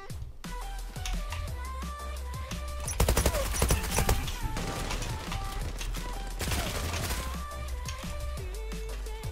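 Rapid bursts of AUG rifle fire in a first-person shooter game with a transformation mod, dense and continuous over game music and effects, growing heavier midway.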